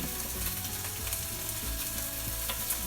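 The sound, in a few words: bacon frying in a pan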